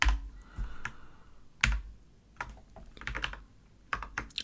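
Clicky typing on a computer keyboard while coding in Haskell, in irregular bursts of close, crisp keystrokes with short pauses between clusters and no voices.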